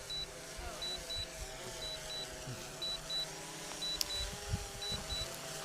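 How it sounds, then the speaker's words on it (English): A faint, steady series of short high electronic beeps from a DJI Phantom 3 Standard drone landing, repeating at even intervals over a low background hum, with a voice speaking quietly. "It's making a beeping sound as it's landing."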